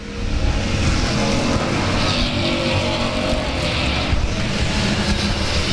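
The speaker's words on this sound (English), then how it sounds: "there's your green flag. Let's go racing pure stock style." A pack of pure stock race cars roars away at the green flag on the South Texas Speedway oval, loud, dense engine noise swelling and holding steady.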